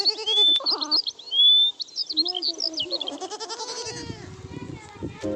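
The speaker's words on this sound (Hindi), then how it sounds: "रामू अपने बकरियों को लेकर जंगल की ओर चला जाता है" Cartoon goats bleat in short, repeated wavering calls mixed with chirping birdsong, close and clear, while a narrator speaks over parts of it.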